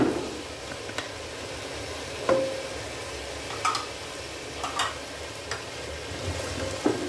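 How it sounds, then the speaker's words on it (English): Chopped tomato and onions sautéing in ghee for a pepper chicken roast, giving a low steady sizzle punctuated by occasional sharp spatula clicks and scrapes against the pan, close by with no talking. "Mix the tomato and the onions well and allow the onions and the tomatoes to get mushy and blend well."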